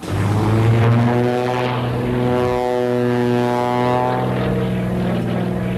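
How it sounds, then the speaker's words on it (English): A black and silver 1940 Waco biplane with a 600-horsepower Pratt & Whitney engine gives a loud, steady propeller drone that rises slightly early on and holds close and powerful throughout, with no voices. "just an ear-busting black and silver biplane packing a powerful 600-horse Pratt & Whitney"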